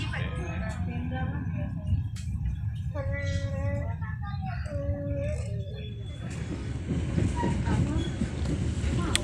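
The Rajabasa passenger train rolls along the rails between Lampung and Palembang with a steady low rumble and rattle, plus a few high whistle-like tones. People talk over the noise inside the carriage.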